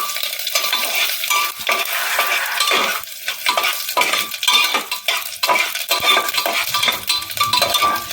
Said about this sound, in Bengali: ফোড়নটাকে ভালো করে ভাজবো